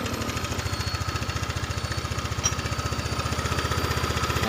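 A Honda Vario 125 scooter engine runs close by with a steady, rapid mechanical pulse at idle that climbs a little in pace toward the end, loud and alone.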